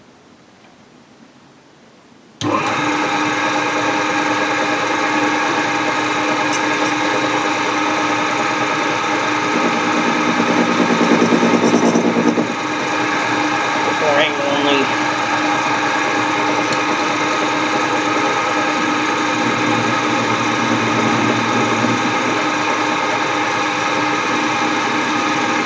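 A bolt being turned on a machine to round off its edges, a steady loud whirring drone that starts after a brief quiet moment and runs continuously with slight swells.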